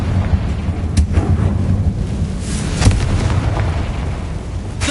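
Confringo spell blasts in the Hogwarts Legacy video game, sharp booming bursts with rumbling low impacts over a steady background din, no talk.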